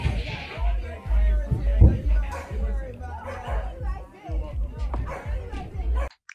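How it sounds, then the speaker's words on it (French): A lively party crowd chatters loudly nearby while dogs bark intermittently among the voices, several sharp barks cutting through the babble before it cuts off abruptly. "Ou encore pire, des parties avec des chiens qui jappent."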